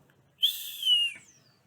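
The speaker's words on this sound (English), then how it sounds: "Peter whistled." A single person whistles one clear, rising-then-gliding note that lasts under a second, heard alone against near silence.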